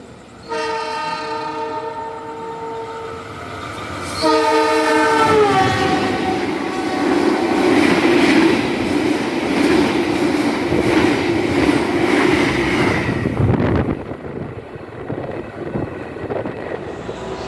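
Near Babadan station, the Sancaka passenger train sounds a loud, sustained horn, then roars past close by with a dense rumble and clatter of wheels that fades as it moves away.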